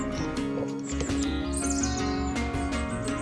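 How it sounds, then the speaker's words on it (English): A bright red bird calls from a field along a countryside walking route, its chirps light and somewhat distant over a steady, busy background. "There's a really cool bird in the field over there."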